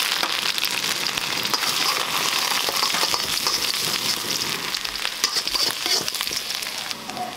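Garlic frying in a spoonful of hot oil for roadside-style Chinese bhel, a steady dense sizzle running throughout with a few louder crackling bursts, close and continuous, no voices.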